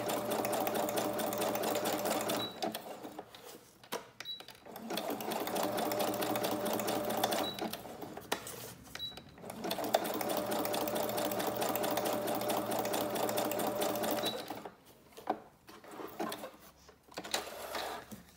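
A sewing machine sews a zigzag stitch in close, loud, fast whirring bursts of rapid needle clatter. Short pauses break the sewing, and faint clicks come between runs.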